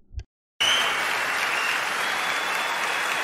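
An audience at an MMA event breaks into loud, dense applause that holds steady and unbroken after a brief moment of quiet.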